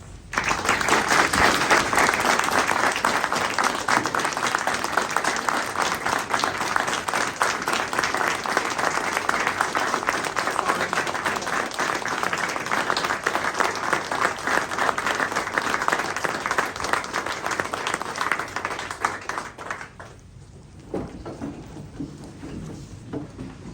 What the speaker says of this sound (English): Would you please join me in a round of applause?